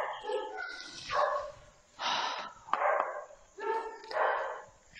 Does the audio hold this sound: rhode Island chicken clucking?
no